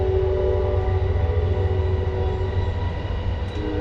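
An Amtrak train passes nearby, a loud, steady rumbling roar with a sustained droning tone held for the whole stretch.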